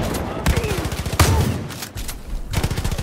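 Bursts of gunfire in the video game Far Cry New Dawn come as sharp, rapid volleys of repeated shots, several separate salvos cutting in over a low droning background with a voice talking in between.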